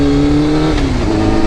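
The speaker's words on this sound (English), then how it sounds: "I gotta deal with this fucking traffic." Dense city traffic heard from a motorcycle on an early-morning urban ride: a loud, steady engine drone with a slowly shifting pitch, close and continuous, with no voices.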